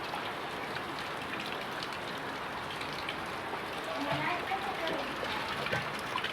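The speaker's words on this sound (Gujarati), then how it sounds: "ફાઇનલી વરસાદ આવી ગયો છે" Steady rain pours over open farmland, a dense even hiss of drops hitting ground and surfaces throughout, with a voice talking faintly beneath it.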